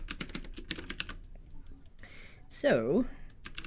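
Rapid clicking keystrokes on a computer keyboard come close and crisp at first, then thin out to a few scattered taps as a voice speaks.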